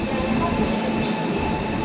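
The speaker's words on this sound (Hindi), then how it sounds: "और सामने आ रही है WP7 के साथ स्वर जयंती एक्सप्रेस दिया टू आनंद विहार।" A Swarna Jayanti Express hauled by a WP7 locomotive rolls in on the rails, a loud, steady rumble with faint wheel squeal and clatter throughout, no pauses.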